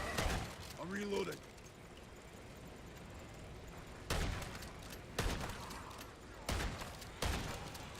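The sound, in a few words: gunfire from Modern Warfare Zombies video game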